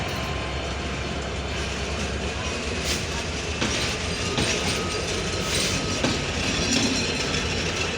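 The Dhaka-bound intercity Nilsagar Express, hauled by locomotive 6638, rumbles steadily past at close range departing Saidpur railway station, wheels clattering over rail joints in a dense continuous roar, with faint voices underneath.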